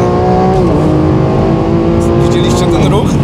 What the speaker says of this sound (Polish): Tak właśnie zmienia biegi.